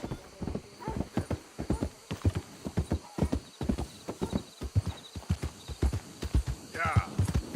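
Horse hooves clip-clop in steady rhythm through Red Dead Redemption 2, close and continuous, with a brief whinny near the end and a voice speaking over the hoofbeats.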